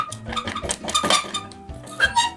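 A spoon stirs thick brioche dough in a metal pan, scraping and clinking against the sides in quick, uneven strokes, close and fairly loud, with no talking.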